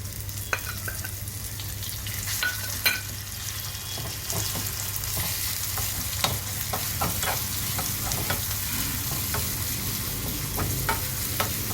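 Garlic chutney frying with coriander leaves in a pan, a constant dense sizzle with occasional light stirring clicks, steady and close throughout.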